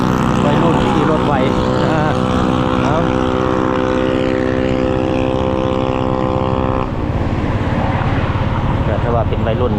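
A teenager's motorbike speeds past on a road along Route 13 North in Laos, engine droning loud and steady with a rising then shifting pitch, heard from a moving vehicle with other traffic noise and a voice talking over it.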